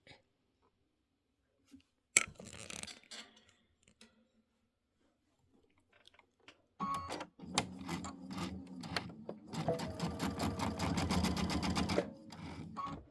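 A sewing machine stitches quilt fabric at a short stitch length. After a quiet start with a brief burst and a few small handling sounds, the machine runs steadily and close for the final seconds.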